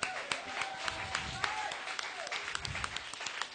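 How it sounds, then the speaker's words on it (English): A church congregation claps together in praise, a dense, fairly distant wash of rapid hand claps sustained throughout, with voices faintly underneath. "Let's give the Lord one more clap offering"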